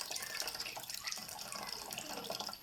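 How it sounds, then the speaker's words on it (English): Water pours from a tap into a pot in a kitchen before the pot is used for steaming vegetables, a steady close splashing flow with no voices. "So we just put water just to steam them."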